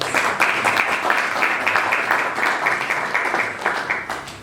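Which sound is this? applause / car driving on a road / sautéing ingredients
applause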